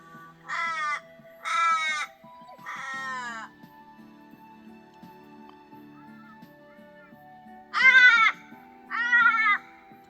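Close, loud crow calls ring out beside a camper in early-morning mallee scrub: three harsh caws, a quiet pause with a low hum, then two more caws.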